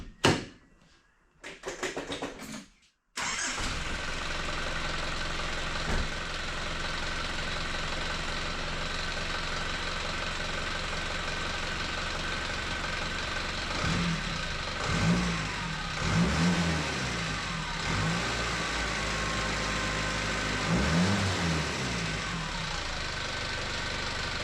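An Isuzu 4JB1 diesel engine with a new injector pump cranks, catches after a few seconds and settles into a steady, slightly high idle, with a few brief revs partway through, close up and continuous.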